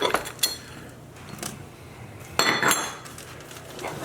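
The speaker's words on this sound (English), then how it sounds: "I use one of these little flat little skewers, and look at that. These pop right out." Cornbread muffins being popped out of cast iron muffin pans with a small flat metal skewer, giving a few sharp metallic clinks and scrapes near the start and a louder cluster of clattering later, with quiet pauses between.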